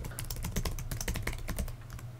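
Rapid clicking of keys on a computer keyboard as an email address is typed, a dense, even run of close, moderately quiet keystrokes with no talking.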